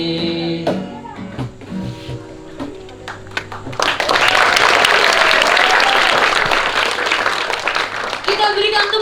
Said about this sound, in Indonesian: Kita berikan tepuk tangan yang meriah untuk kelompok Pangeran Antasari